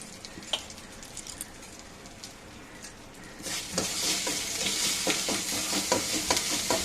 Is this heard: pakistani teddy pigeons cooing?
no